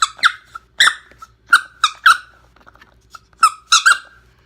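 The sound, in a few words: Chase and Chomp squeaker ball dog toy squeaking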